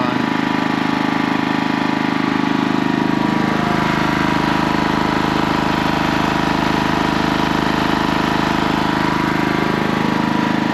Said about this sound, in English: So that's why I got this generator on the front, so I have extra power when I need it.